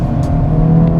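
Engine of a 2024 Acura Integra Type S, a turbocharged car, heard from inside as a loud steady drone with a brief rising blip of an automatic rev match and no talk.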